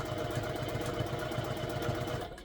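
A Juki TL-2000Qi sewing machine stitching quilting fabric over batting gives off a steady, close motor whir with a fast regular pulse that stops abruptly near the end.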